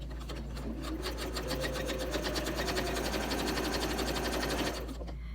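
A sewing machine stitches a straight line along a quilting ruler, running in a steady, fast, even rhythmic chatter at close range before stopping near the end.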